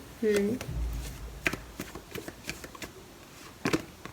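Tarot cards are shuffled and drawn in a Cancer love reading, giving soft scattered flicks and card slaps between short bursts of talk, close and fairly quiet.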